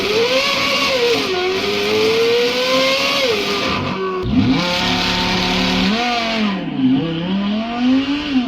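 A Ferrari V8 revving hard, its loud, close engine note climbing and falling through several pitch sweeps with brief drops between pulls, a fast rising howl running to the end.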